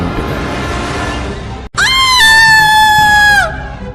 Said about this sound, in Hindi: मगर ऊपर का नजारा देखते ही वो बस एक तीखी आवाज में चीख पड़ी, जिससे वहां का सन्नाटा टूट गया।